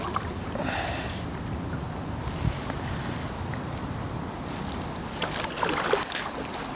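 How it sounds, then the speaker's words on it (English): Someone paddles a sit-in kayak on a lake, with soft splashing and dripping strokes under steady wind noise from the microphone, close and moderately loud throughout. "This is me not quite having mastered kayaking."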